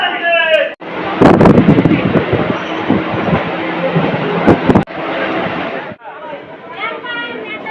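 A train rumbles loudly close by at a station platform near Naihati, West Bengal, with a dense, broadband clatter, and people's voices blend into the noise.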